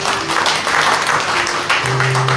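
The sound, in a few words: congregation applauding in church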